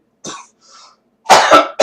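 Several harsh coughs from an audience member nearby, starting with two softer throaty bursts, then a louder run of three sharp coughs close together.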